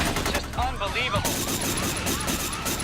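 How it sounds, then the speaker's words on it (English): Rapid gunfire from a SWAT team shooting at close range, loud bursts of shots crackling over a dense, noisy scene with voices shouting throughout. "Shots are firing everywhere. It looks like SWAT's on scene and shooting from point-blank range."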